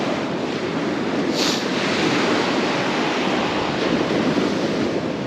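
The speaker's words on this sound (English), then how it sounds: "There's quite a bit of a wind, but it does say it's only about 15 miles an hour." Steady wind roars across a beach alongside surf, a constant loud broadband rush that never lets up, with no voices.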